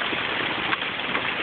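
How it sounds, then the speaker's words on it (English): Hail falls steadily during a mid-May storm in Colorado. The dense, continuous patter is close and fairly loud, with a few sharper impacts. "It's hailing. It's been hailing for about 10 minutes. This is not snow. This is hail."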